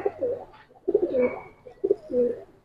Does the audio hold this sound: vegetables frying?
no